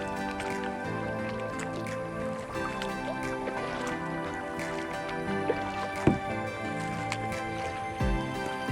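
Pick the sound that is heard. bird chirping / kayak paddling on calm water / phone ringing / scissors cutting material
kayak paddling on calm water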